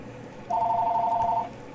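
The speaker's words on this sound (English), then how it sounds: "That phone always rings." A telephone rings once, a steady electronic tone of about a second over a low room hum, clear and fairly close, with no talking.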